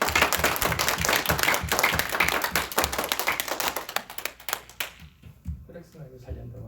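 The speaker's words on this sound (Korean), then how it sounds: "우리가 같이 한번 박수 한번 쳐볼까요?" A congregation claps their hands together in a church service, dense and loud at first, then thinning into scattered, fading claps toward the end.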